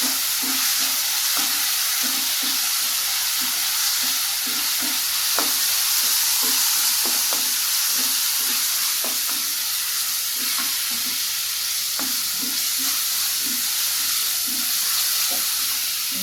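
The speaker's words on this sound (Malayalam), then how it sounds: "2 സവാള അരിഞ്ഞത്, 2 പച്ചമുളക് ഇട്ടു, കരിവേപ്പില ഇട്ടു. നല്ലപോലെ ഒന്ന് ഫ്രൈ ആക്കി" Two chopped onions, green chilies and curry leaves frying in a pan for soya chunk curry, a loud continuous hiss of oil with regular rhythmic spatula scrapes and taps, no voices.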